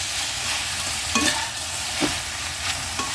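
Onion is stir-fried with meatballs and mixed vegetables in a pan, giving a continuous close sizzle with three or four distinct scraping stirs of a spatula.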